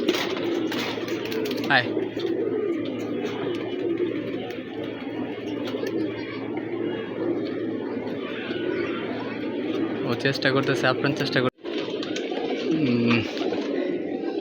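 Pigeons at a rooftop loft coo in a continuous low murmur, close and moderate, while a man calls out to them and talks over the birds.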